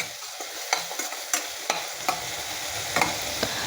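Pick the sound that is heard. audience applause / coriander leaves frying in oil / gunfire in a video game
coriander leaves frying in oil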